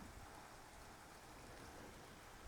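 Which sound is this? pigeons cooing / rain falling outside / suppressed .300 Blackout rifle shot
rain falling outside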